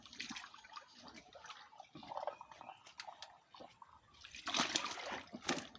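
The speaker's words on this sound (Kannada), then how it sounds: "ನೀರು ಬೀಳುವ ಶಬ್ದ ಕೇಳ್ತಾ ಇದ್ದು" Water dripping and splashing inside a narrow underground tunnel beneath a house, irregular drops echoing close by, growing denser and louder toward the end.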